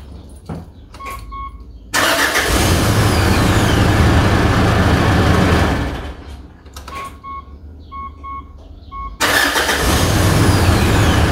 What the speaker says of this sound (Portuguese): para resolver definitivamente o problema do tec-tec do motor de partida, troquei o automático